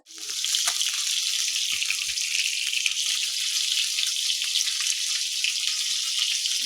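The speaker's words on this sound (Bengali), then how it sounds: "এখানে আলু পেঁয়াজ কলি ভাজা" A loud, even sizzle of potatoes and onion stalks frying in oil, a constant bright hiss that starts abruptly and holds steady without a break.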